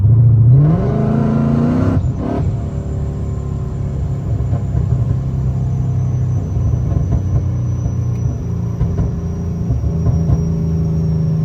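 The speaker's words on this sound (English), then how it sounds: "I'm gonna touch the gas with the valves open" A supercharged Ford Mustang with valved exhaust, valves open, revs up sharply at the start, then settles into a deep, rumbling exhaust burble that holds steady and close.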